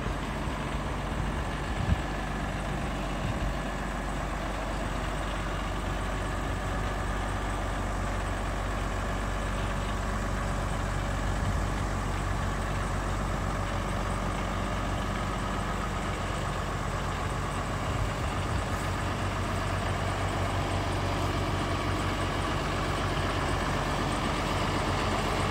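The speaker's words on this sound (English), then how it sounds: "Nice, nice truck." A truck engine idles in a low, steady rumble, close and constant throughout with no changes in pace.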